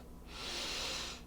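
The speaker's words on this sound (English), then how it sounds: "He took a big sniff." A single big sniff, a breathy inhale that swells and then fades over about a second, heard alone with no talking.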